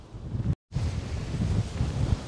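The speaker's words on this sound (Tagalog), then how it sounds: "Medyo lumalakas ang hangin" Strong wind at Flinders Pier buffets the microphone in a loud, continuous low roar, broken by one short dropout, with no one speaking.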